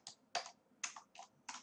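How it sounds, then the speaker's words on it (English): Five crisp bursts of keys pressed on a computer keyboard while entering a shortcut in a Word document, each quick cluster of clicks spaced by short pauses, close and alone without talk. "so I can type Control I, Y."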